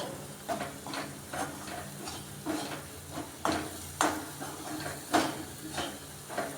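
Spices frying in oil in a pan are stirred, giving soft, fairly regular scraping strokes over a faint, low sizzle.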